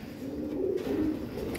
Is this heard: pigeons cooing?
yes